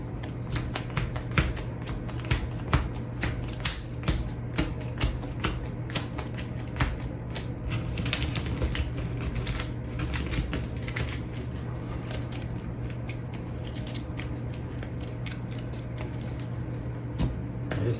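Cards for the racing board game Heat being shuffled, a dense run of quick crisp riffling clicks and flutters, close and steady for the whole stretch, over a low constant hum.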